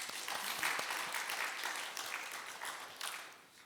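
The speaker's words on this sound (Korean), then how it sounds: "우리 하나님께 영광과 또 우리에게 격려의 박수 잠시 하시겠습니다." A church congregation at a Wednesday evening service claps in a soft, fairly distant round of applause, a steady wash of hands that gradually thins out toward the end.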